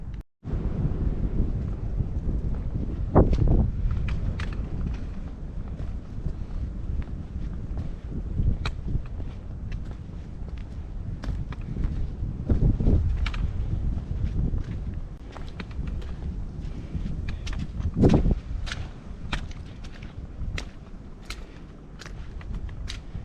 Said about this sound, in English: as you can tell, it's a little bit windy